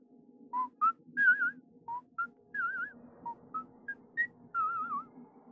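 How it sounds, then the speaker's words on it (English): A series of melodic whistled phrases, wavering and rising, come in short bursts with pauses between, over a low murmuring background. "You hear the whistle continue for a couple of minutes and then fade."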